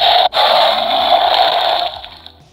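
A Jurassic World Dominion MegaRaptor dinosaur toy gives off a loud, steady flushing whoosh like a toilet, with a brief cut near the start before it fades away.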